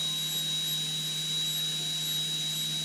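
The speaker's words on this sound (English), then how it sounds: "You'll find the burr wants to dig into the metal." A high-speed rotary burr grinds steadily against metal, texturing an engraving and slowly removing excess, giving a constant thin whine with an even hum beneath it, close and alone throughout.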